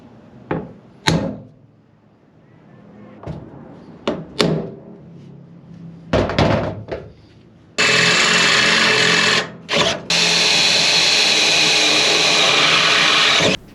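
A rib nut tool sets rib nuts with 1/4-inch bolts to mount a roof rack on a Toyota Tacoma, making a series of sharp clicks and knocks, then a long, loud, steady whirring run.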